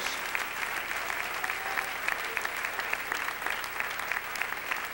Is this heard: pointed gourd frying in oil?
no